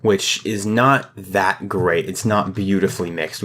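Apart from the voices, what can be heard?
No distinct noise like a dog, phone or traffic.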